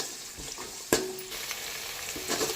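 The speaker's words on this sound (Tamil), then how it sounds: "பூண்டு நல்லா வதங்கி வரட்டும், கிளறி விட்டுக்கலாம்" Garlic sautéing in a pan with onions for a Chettinad fish curry, a soft steady sizzle with a brief scrape of stirring near the start, close and fairly quiet.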